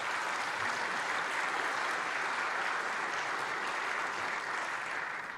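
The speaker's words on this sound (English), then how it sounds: "Can we have a big round of applause for all of these sponsors?" A seated audience at a mayor's business breakfast gives a sustained round of applause, dense even clapping filling the room at moderate distance without pause.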